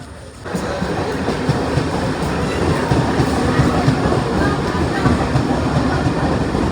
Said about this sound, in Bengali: আর ট্রেনটা বেশ গ্যালোপিং ছিল